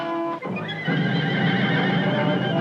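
Horses whinny and neigh close by, a loud sustained whinny followed by dense, noisy horse sounds amid a chaotic struggle on collapsing quicksand ground, with no talking.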